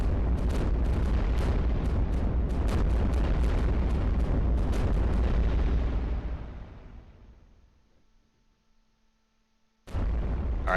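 Cannon fire and explosions from the naval tower-defense game iBomber Defense, with warships under attack in the Eastern Mediterranean: dense, loud booms and bursts pound continuously for about six seconds, then fade to near silence before one more blast.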